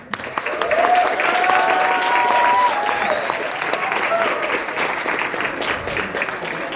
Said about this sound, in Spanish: Les pido un aplauso para el personal docente de la Facultad de Ciencias Químicas